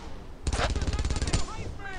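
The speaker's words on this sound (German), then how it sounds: "Ich werde beschossen!" Bursts of automatic gunfire in the video game Brothers in Arms: Earned in Blood rattle loudly for about a second, aimed at the player, then fade to a quieter background.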